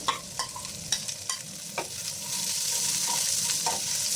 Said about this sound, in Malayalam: ഇനി നമുക്ക് കട്ട് ചെയ്ത് വെച്ച അമരപ്പയർ ചേർത്ത് കൊടുത്ത് വഴറ്റി കൊടുക്കാവുന്നതാണ്